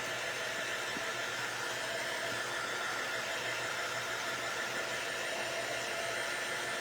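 A hair dryer blows on craft shims being made into candy corn, a constant even whoosh of airflow with a low motor hum, steady and unbroken at moderate distance.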